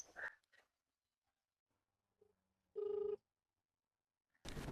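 A phone gives one short, clear electronic ring in a quiet room, set between brief faint rustles and a few other small noises.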